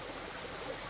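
A river near the village of Huilapa flows with a steady, even wash of water, a continuous broadband rush at moderate level with no voices.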